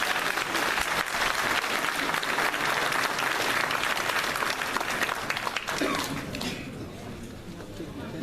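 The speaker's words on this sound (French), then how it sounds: "Mesdames et messieurs, vous avez le droit d'applaudir." Sustained applause from a conference audience, dense and even clapping that carries on for several seconds before thinning out toward the end.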